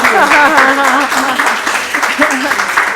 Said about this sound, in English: And then you need to applaud for that.